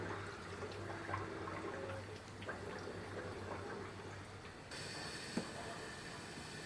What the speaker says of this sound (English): And this is how I fill up a tank when I do water changes.